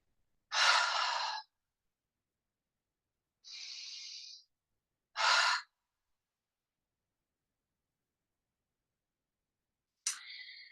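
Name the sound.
breathing in through the nose and out through the mouth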